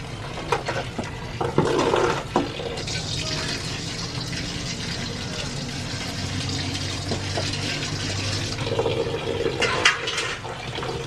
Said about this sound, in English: I actually love to use a whole lot of water when it comes to washing water leaf